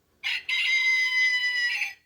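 A single electronic rooster crow alarm from a Xinjia talking watch, bright and tinny, starting with a brief note and then a long sustained call that fades out.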